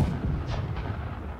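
Ship cannons fire in the Blackwake naval video game as a loud, deep, rumbling boom that rolls on without a break through the short moment.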